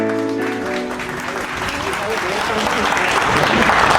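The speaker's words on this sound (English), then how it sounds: "please, join me for a big round of applause to those who have done all the hard work" An audience at a golden jubilee celebration breaks into applause for event volunteers, the clapping rising and swelling into a dense, sustained roar as a voice trails off at the start.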